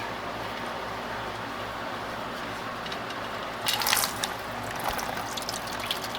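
Dirty, oily water drains from a 1972 Corvette's rusted engine in a faint, steady trickle, then gushes louder and splashes for a moment before settling back.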